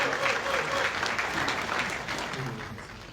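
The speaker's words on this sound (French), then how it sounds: "applaudissements, mesdames et messieurs." Crowd applause at an album launch ceremony, steady continuous clapping from an audience, moderately loud and gradually tapering off, with faint voices mixed in.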